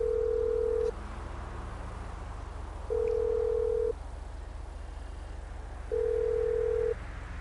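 A phone in the GTA Online video game gives three steady ringback or dial tones, each about a second long and spaced roughly two seconds apart, over a low constant background hum with no talk.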